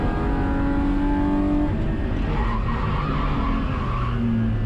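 A race car at an IPRA NSW round at One Raceway slides wide with skidding tires. Steady loud engine roar with sustained squealing tones, heard continuously and without commentary.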